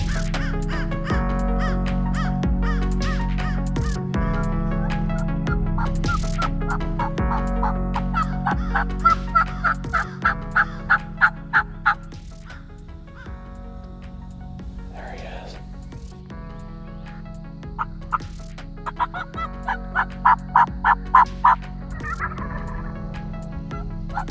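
Turkey calls and gobbles come in repeated bursts over a steady low hum, some sharp and rhythmic, with rising and falling series throughout.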